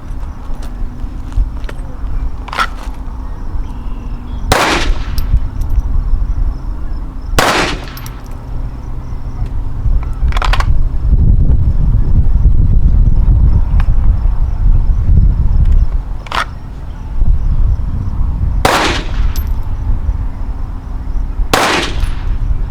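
Pistol shots from a KelTec P17 fired at 10 yards on an outdoor range after a draw, sharp loud cracks arriving in a loose irregular string with pauses between, over steady wind and background rumble.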